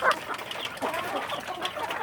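Free-range village chickens on a small farm cluck nearby in short, soft, overlapping calls, a continuous low murmur of fowl with no voices.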